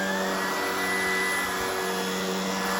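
A Shark Vertex cordless vacuum cleaner runs steadily with a close, constant motor whine and airflow hiss, no pauses or talk.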